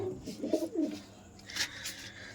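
A pet pigeon coos in a few soft, rolling low calls close by, followed by brief brighter rustling or flutter sounds in a quiet room.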